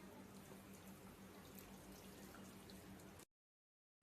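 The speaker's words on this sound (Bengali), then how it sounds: "এই ছাঁকনিতে আমি ঢেলে দিচ্ছি।" A corn mixture pours steadily into a strainer with a soft, continuous watery trickle, faint and close, before stopping abruptly.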